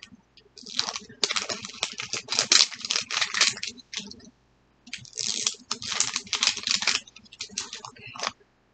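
A double-sealed plastic Mini Brands package is torn and crinkled open in two bursts of rapid close rustling and crackling separated by a short pause, with a person speaking briefly.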